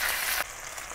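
Lamb pieces sizzle in hot oil in a wok for Xinjiang-style cumin lamb, a dense, loud frying hiss that drops to a softer steady crackle about halfway through.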